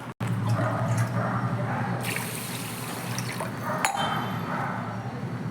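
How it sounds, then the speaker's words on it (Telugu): Water pouring steadily from a glass onto washed rice for vegetable biryani, a close, continuous liquid gush with a brief clink near the start and a slight splash partway through. "1 గ్లాసుకి 2 గ్లాసులు నీళ్లు పోసుకోవాలి"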